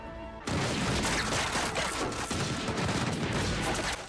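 A rifle volley from the 2003 film The Last Samurai erupts suddenly after a quiet moment, a dense, loud, sustained crackle of massed battlefield gunfire and booms lasting several seconds without talk.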